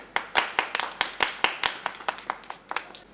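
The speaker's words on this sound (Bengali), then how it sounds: "মামার জন্য হাততালি।" Hands clap in a quick, uneven burst for Masud Rana mama, about a dozen sharp claps from a small group over roughly three seconds. The clapping is fairly close and no one speaks over it.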